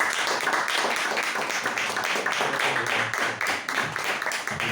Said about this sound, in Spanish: propongo un aplauso para Lino